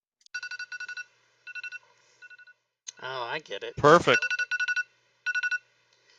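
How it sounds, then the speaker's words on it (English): Bursts of electronic alarm beeps mark a prize giveaway on a Fantasy Grounds talk show, sounding in short repeated clusters before and after a brief stretch of speech. "That is the alarm for the prize."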